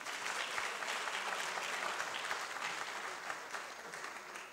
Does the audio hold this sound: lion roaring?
no